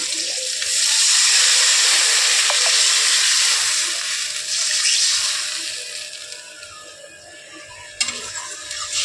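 Water hits a hot pan of just-fried prawns with a loud, steady sizzling hiss that slowly dies down. A small clink sounds near the end.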